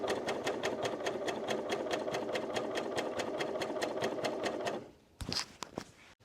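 A coverstitch sewing machine stitching binding runs fast and steady for about five seconds, a close, even mechanical chatter, then stops, leaving a few clicks and light handling noises.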